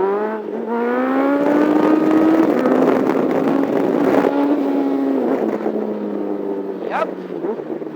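A Honda CB1000 motorcycle engine revs hard, pitch climbing steadily then holding a loud, sustained howl before dropping off, with strong wind buffeting over the recording.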